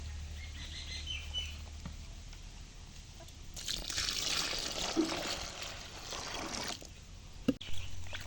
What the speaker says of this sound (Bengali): এখন এখানে পানি দিয়ে দেবে